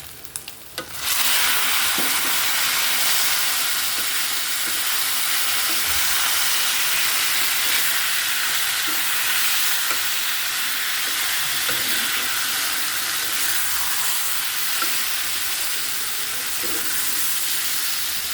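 Taro leaves cooking with shrimp in a hot pan give off a loud, continuous sizzle and hiss that starts abruptly after a second and holds steady throughout, with faint stirring scrapes underneath.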